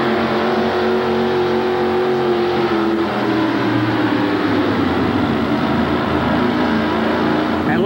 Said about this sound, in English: And Les, how you could say they pulled that engine right down.